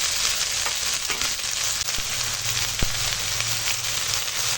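Chopped red amaranth greens dropped into a pan of fried onion, garlic and chilli, giving a loud, steady sizzle with a few brief knocks of stirring.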